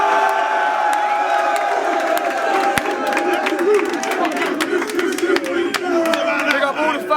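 A packed crowd at a Don't Flop rap battle event cheers and whoops loudly and without a break. The shouts and scattered claps overlap in a dense, roaring wall of noise.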